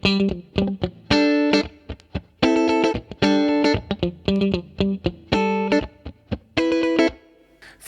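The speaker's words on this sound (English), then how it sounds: "So I set up a reverb that's" Electric guitar chops out a choppy funk rhythm of short chords with gaps between them, through a Fractal VP4 set to a short, quiet reverb, leaving a brief tail.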